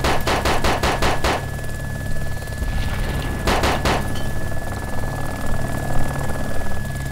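Video game gunfire in DayZ: two close bursts of rapid automatic shots, one at the start and one near the middle, over a constant loud engine-like drone.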